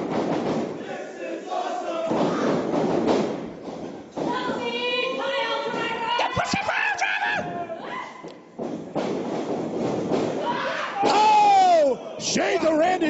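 A wrestling crowd in North Andover roars and chants at a live match, loud surging cheers and shouts with heavy ring thuds mixed in, and a few shrill whistles and yells rising above the noise.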